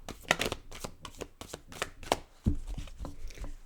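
Tarot cards being shuffled close up, a run of quick riffling, flicking bursts in an uneven rhythm, fairly quiet, with no talk.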